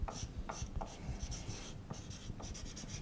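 Permanent marker scribbling on a tile, with quick scratchy strokes and short pauses in a steady rhythm, heard close and alone.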